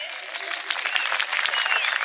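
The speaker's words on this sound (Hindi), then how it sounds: "तो एक बार ताली हो जाएगा खिंच के" Steady applause from an audience at a live comedy show at a fair, many hands clapping continuously at moderate loudness for a couple of seconds.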